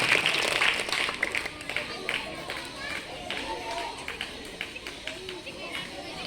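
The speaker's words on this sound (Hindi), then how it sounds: "तालियां बजनी चाहिए" Audience at a school Teachers' Day programme in Kishanganj clapping steadily, a dense patter of hands with crowd chatter and murmuring mixed in throughout.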